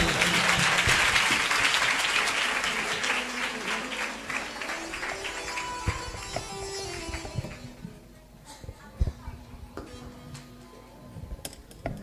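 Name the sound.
congregation applause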